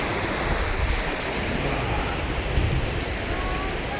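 Steady rushing surf of the North Sea on the coast, a broad continuous wash of breaking waves with some wind buffeting the microphone, no voices.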